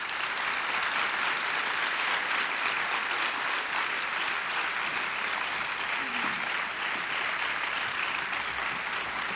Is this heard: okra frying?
no